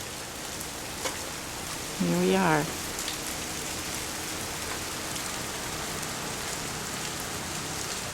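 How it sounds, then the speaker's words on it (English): Steady rain falling during an ice storm, a dense even hiss of drops on surfaces. Someone speaks briefly partway through, and the rain continues alone before and after. "it's still raining"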